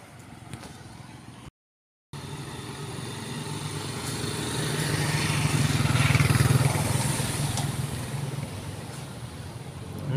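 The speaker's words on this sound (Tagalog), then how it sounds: "Madaming mga nagdadaang sasakyan dito sa barangay namin." Vehicles, including what sounds like motorcycles, pass along a busy village road in a Philippine barangay, their engine drone continuous and swelling louder as one nears and passes midway, with a brief dropout near the start.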